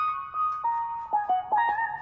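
An electric guitar riff pitched up an octave for a music production, a thin, bright melodic line of several gliding sustained notes, quiet and isolated, sounding almost like a lead synth.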